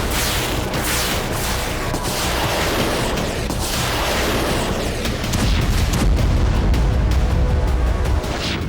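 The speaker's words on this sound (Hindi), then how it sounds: "यूक्रेन के इसी हमले से भड़की रूसी सेना ने अब आईसीबीएम मिसाइलों से हमला शुरू कर दिया" Explosions from a Russian missile attack in news footage, a dense, continuous roar of blasts and rumbling booms that stays loud throughout and swells heavier toward the end.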